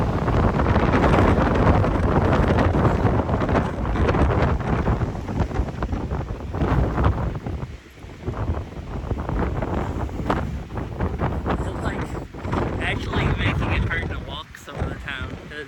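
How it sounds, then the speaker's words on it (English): Strong wind on Dirty Harry's Balcony Trail in Washington, loud gusts buffeting the microphone with heavy rumbling that briefly drops and then surges again, and some talking mixed in. "So freaking windy."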